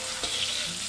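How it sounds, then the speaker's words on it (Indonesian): Anchovies (ikan teri) frying in hot oil, giving a brief, steady close sizzle with a faint stir. "sekarang kita mau goreng ikan terinya yang udah kita cuci"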